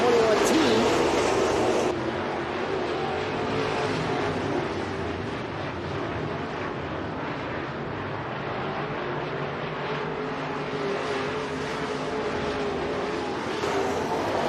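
Race cars circle the track at Eagle Raceway, a continuous distant engine drone under a public-address announcer calling the race.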